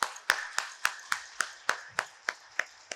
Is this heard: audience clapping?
yes